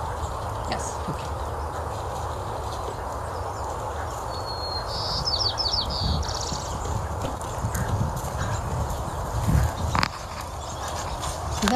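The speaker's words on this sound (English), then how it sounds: "I just love watching this horse run." A horse running and bucking outdoors, with soft hoof thuds on the ground over a steady background hiss and a few faint bird chirps.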